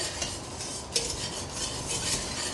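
Flour stirred into melted, foaming butter in a pan to make a roux, a dense close hiss with soft scraping strokes and one brief clink, no talking.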